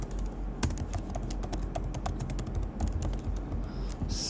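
Rapid, uneven keystrokes on a computer keyboard, close and fairly quiet, clicking alone with no talking.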